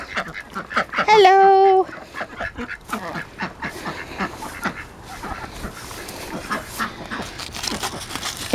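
Ducks in a backyard vegetable garden give a loud honking quack up close, followed by softer scattered quacks and rustling while a person speaks to them.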